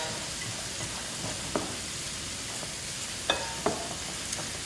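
A spatula stirring ingredients in a pan over a constant low sizzle, with several faint scraping taps scattered throughout, close by and without speech.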